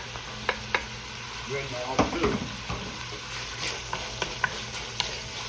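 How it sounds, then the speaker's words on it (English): Onions sizzle and fry in a pot with bacon, a steady close hiss broken by a few sharp spatters and a brief stir of the spoon partway through. "Now, let me put my onions in here, because I like my onions to cook all the way through in here."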